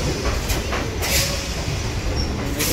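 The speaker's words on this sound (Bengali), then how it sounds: "ট্রেন কিন্তু এসে দাঁড়ালো কলকাতা স্টেশনের সামনে" A Kolkata local train arrives at the station with a loud, steady rolling rumble and a few sharp wheel clicks and squeals.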